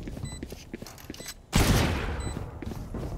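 A burst of rifle gunfire cracks out in a Valorant esports match, loud and close, following a stretch of quieter clicks and footsteps. A dense rattle then lingers briefly after the shots.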